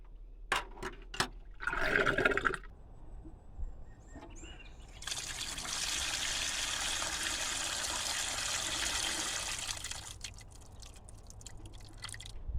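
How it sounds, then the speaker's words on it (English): Water drains from a camper sink after the plug is pulled, a steady broadband gurgling rush lasting several seconds at close range, preceded by a few sharp clunks and splashes of handling. "Let's see what happens to the water when I pull the plug."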